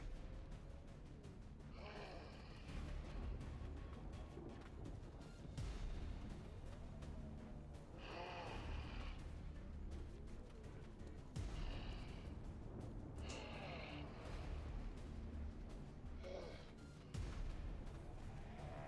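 Gunfire and explosions in XCOM 2, several heavy booming blasts spaced a few seconds apart over a continuous low rumble, moderately distant.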